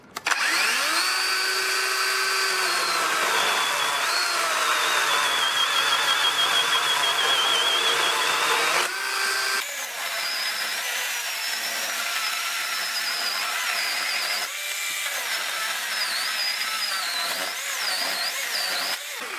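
A battery-powered Dewalt chainsaw whines loud and close, running steadily, then dipping in pitch as it bites into wood and recovering, the cut continuing in long sustained passes.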